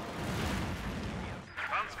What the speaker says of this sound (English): So we have MG opening up,